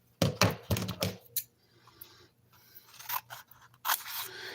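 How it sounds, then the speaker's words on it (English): Scissors snip through craft cardstock in a few quick, close cuts, followed by softer rustling and handling of paper at a quiet tabletop. "I'm going to grab my scissors here."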